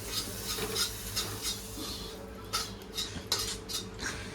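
Vegetables roasting in a little oil for a Khandeshi-style mutton dish, with steady clinks of a metal spoon against the pan over a soft, continuous sizzle, close and moderately loud, no talking.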